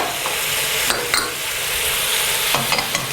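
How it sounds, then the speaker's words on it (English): Ginger, coriander stalks and garlic cloves sizzle steadily in a hot pan while being stirred, with a few sharp scraping clicks of the utensil standing out near the start and end. "give these a good stir."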